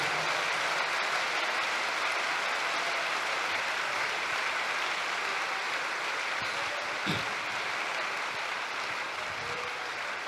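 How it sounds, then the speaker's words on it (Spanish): A church congregation applauds at a sermon in a steady, dense wash of clapping heard from a distance at low level, continuing evenly throughout with one brief thump midway. "Aplauda con ganas la grandeza de nuestro Dios."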